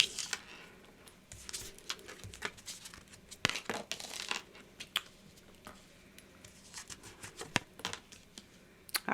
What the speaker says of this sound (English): I'm going to pull 6 cards for you